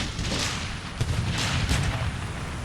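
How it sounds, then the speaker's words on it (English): Mortar fire in Empire Total War rumbles as a dense, continuous low barrage, deep thuds rolling under a steady wash of battle noise at even loudness throughout. "That's why I loathe and detest mortars."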